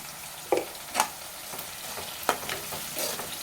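Turmeric being stirred into a frying tomato and brinjal curry with onions, a spoon scraping the pan in a few distinct strokes over a faint steady sizzle, with no talking.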